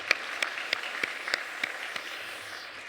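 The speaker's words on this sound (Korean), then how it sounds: "우리 크게 하나님 앞에 그리고 격려의 위로에 또 구역장들에게 박수 한번 하도록 하겠습니다" Sparse, faint claps from a small church congregation applauding its district leaders, about ten evenly spaced hand claps in a slow, steady rhythm.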